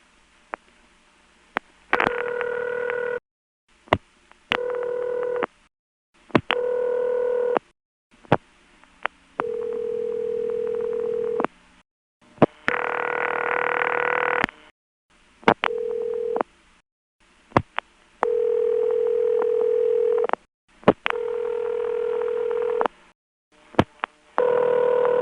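Telephone calls dialed into a crossbar 5 exchange in Lexington, South Carolina: a string of separate tone bursts and ringback rings, each set apart by short silences, clear and fairly faint.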